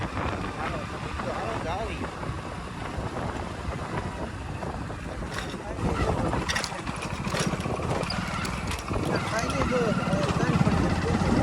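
Motorcycle engine drones steadily while riding a rough off-road farm track toward a rural temple, with constant wind rush and rattling, growing louder partway through.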